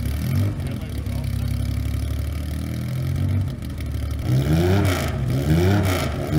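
Porsche race car from the 1981 Sanremo rally revving its engine up and down in repeated rising and falling sweeps, loud and close, with a steady engine drone underneath.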